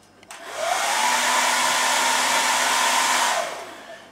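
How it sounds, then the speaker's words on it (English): A hair dryer switches on and blows steadily with a loud, even whoosh for a few seconds across a sheet of dichroic material, then winds down. "If I just give it a bit of a blast with the hairdryer"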